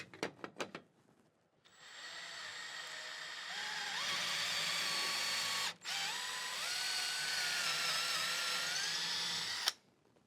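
A power drill bores a pilot hole for lag bolts while a full-motion TV mount goes up, a few short trigger bursts followed by two long steady whirring runs with a brief break between, loud and close with no talk.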